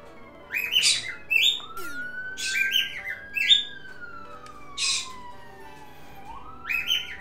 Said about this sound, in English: Thank you, ambulance, for once again starting my birds screaming.